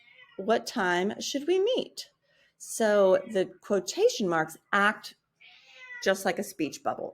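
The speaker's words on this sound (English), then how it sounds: "Apologies for my cat." A house cat meows loudly several times in short bursts, mixed in with a person talking close by.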